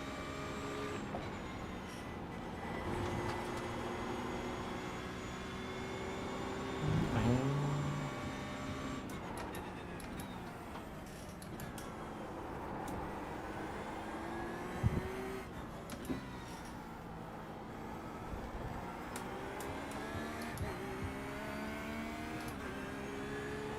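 A Ferrari GT3 race car engine in a racing video game at Silverstone, a sustained droning whine rising and falling through gear changes, steady and fairly loud with a brief bump midway and no voices.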